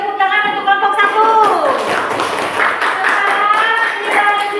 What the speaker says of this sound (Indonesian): Coba beri tepuk tangan untuk kelompok 1